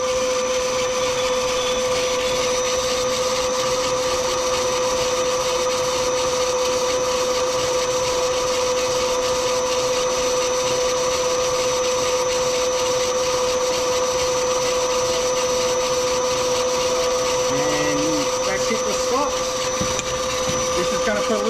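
A workshop lathe drills into a Bantam pump plug, giving a loud, steady motor whine with a strong sustained tone and a rough cutting texture that changes near the end.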